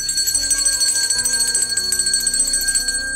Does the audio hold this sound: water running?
no